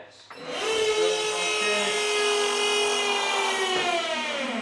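An electric car lift motor raising a car, with a loud, steady whining drone rising from a brief start and holding evenly for several seconds, its pitch shifting slightly near the end.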